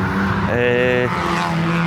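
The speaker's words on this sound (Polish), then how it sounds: "to podwójne doładowanie w tych silnikach BMW działa fajnie" A BMW engine with twin turbocharging pulls under acceleration, its harmonic drone rising and then settling across the short stretch, steady and fairly close. Occasional speech-like sounds seem mixed into it.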